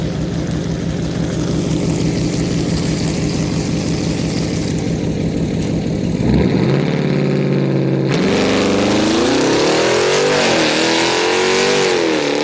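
Jeep Grand Cherokee SRT launching down a drag strip at Orlando Speed World on street night, a steady loud engine drone that dips, then roars back and climbs through rising gear sweeps, with no talking.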